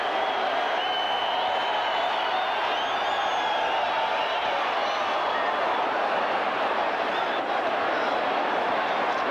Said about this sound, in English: this crowd is into the game